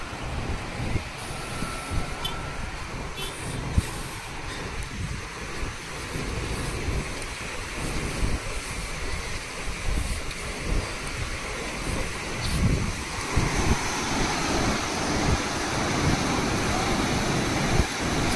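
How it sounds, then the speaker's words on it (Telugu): Water pours forcefully through the six open gates of Gorur Dam on the Hemavathi reservoir, making a continuous heavy roar that grows slightly stronger toward the end, with no voices over it. "ఇప్పుడు చూడండి వాటర్ ఫోర్స్ ఎలా పెరిగింది."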